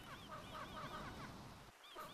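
Goose-like honking from a bird in the Gorilla Tag VR game's volcano map, a steady run of repeated nasal honks at moderate level over continuous background noise, with no voices.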